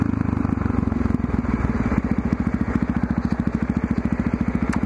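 Motorcycle engine chugging at 3,500 RPM in fifth gear around 45 mph, a close, loud, rhythmic low thumping pulse that stays steady throughout with a slight change in tone midway.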